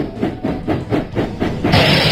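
A cartoon steam engine in a Thomas and Friends video game puffs in a rhythmic series of about six chuffs, close and loud, ending in a sustained hissing rush of steam.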